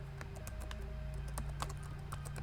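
Quiet, steady typing on a computer keyboard at close range: a run of light, irregular key clicks with no speech, over a faint background hum.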